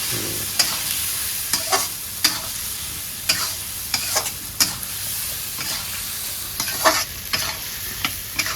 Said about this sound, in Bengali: আলু মশলার ভিতরে দিয়ে একটু সমান নাড়া দেবো